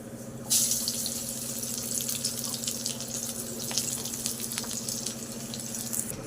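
Chopped onion drops into hot oil already holding whole cumin and a dried red chilli, setting off an abrupt, loud, close sizzle that holds as a steady crackling hiss with no talk.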